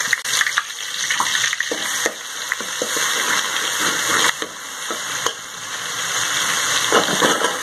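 Ginger garlic paste frying in about a cup of hot oil in a pot, a loud continuous sizzle with crackling bursts and stirring scrapes throughout, close and without talk.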